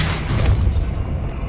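Depulso spell cast in Hogwarts Legacy, a heavy booming blast with a low rumbling body that fades over about a second.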